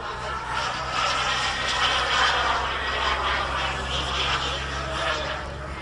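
A Viper Jet MK2 radio-controlled jet with turbine power flies at an event, giving a steady broadband turbine roar with a low hum that swells slightly midway, no distinct talk over it.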